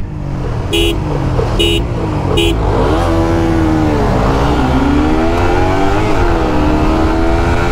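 Motorcycles including a CFMOTO 300SR launch together in a drag race, loud engines revving and rising in pitch continuously, with short horn toots at the start.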